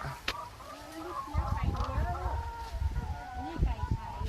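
Laying hens on a farm cluck and murmur in scattered short calls, moderately close, with rustling and voices talking over them.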